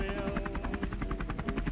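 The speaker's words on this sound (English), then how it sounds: "Oh wait, yeah, we're in a helicopter now." A helicopter in the video game Rec Room gives a fast, steady rotor chop of even thumping beats, close and continuous, with a faint musical tone underneath.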